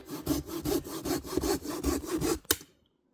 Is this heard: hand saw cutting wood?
yes